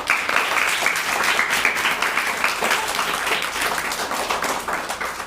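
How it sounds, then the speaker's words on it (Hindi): Applause for schoolchildren singing at a primary school in Chak Takuli, Banda: a dense, steady clapping of many hands that carries throughout, with no speech over it. "चलिए इनके लिए तालियां"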